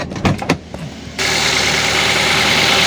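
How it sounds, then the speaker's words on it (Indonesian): A car engine, heard up close with the hood open, follows a few quick thumps and clicks, then catches and settles into a loud, steady, even running roar. "ketika mesin terputar, mesin menyala"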